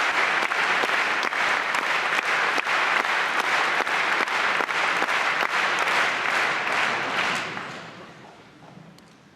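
Rhythmic unison clapping from a large concert audience of about 1,900 at the Salle Pleyel in Paris after a symphony orchestra's performance, a steady loud beat of claps that holds for several seconds before fading away.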